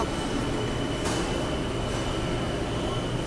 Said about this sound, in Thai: แป๊บเดียวขบวนที่สองเข้ามาแล้ว